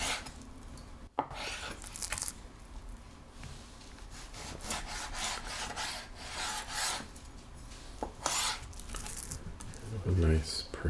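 A knife trims Japanese A5 Wagyu beef into a neat rectangle, producing close, repeated rasping and scraping strokes against a cutting board, with a soft thud near the end.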